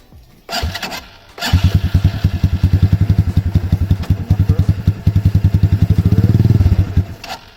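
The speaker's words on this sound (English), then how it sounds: "when you hear the bike start like it at dead, then we are going to give it a little bit of gas" A motorcycle starting up, with a brief cranking burst, then a loud, close engine settling into a rapid, rhythmic idle that rises and thickens as throttle is added.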